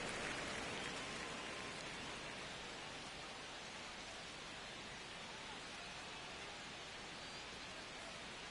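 Steady rain falls with a dense, even hiss across the whole stretch, constant and close with no breaks, drops pattering on surfaces and no voices over it.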